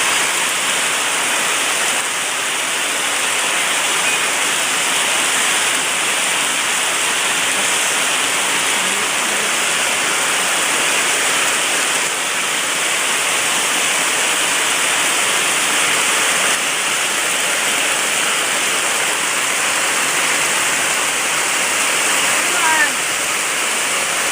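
Heavy rain on a farm where ginger is grown, a steady dense broadband hiss of falling water lasting throughout without pause, loud and close, with no clear talk over it.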